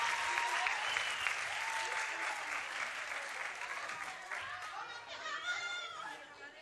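An audience at a robot game event of a LEGO robotics competition applauds, the clapping gradually thinning while chatter and a few voices rise from the crowd.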